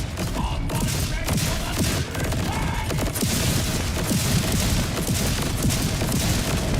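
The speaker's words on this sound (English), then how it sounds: "I'm just gonna throw a couple grenades." Chaotic barrage of grenade explosions and gunfire in the shooter game Borderlands 4, dense overlapping booms and blasts filling the whole stretch at loud, constant intensity.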